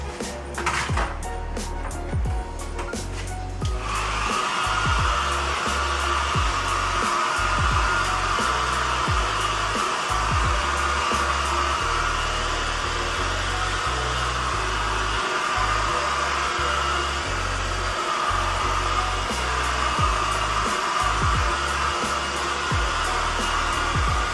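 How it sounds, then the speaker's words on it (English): A hair dryer roars steadily and loudly in a kitchen after a brief start, its continuous blowing hum unbroken throughout. "use the hair dryer to dry it."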